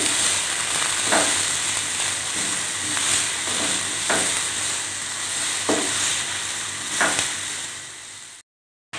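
Carrots and peas fry in a pan with a constant loud hiss of oil. Occasional soft stirring knocks land every second or so, and the sound cuts off abruptly near the end.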